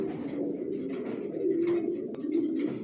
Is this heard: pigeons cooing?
yes